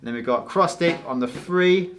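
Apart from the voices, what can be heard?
No everyday noise stands out behind the speech.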